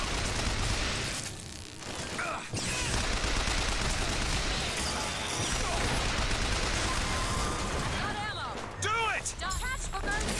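Gunfire rattles through a combat scene in Bioshock Infinite, with dense rapid bursts and shots almost continuous over ambient battle noise, while voices talk over it.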